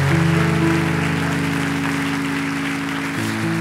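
A church congregation applauds steadily, with dense clapping spread under sustained organ-like keyboard chords that shift pitch near the end.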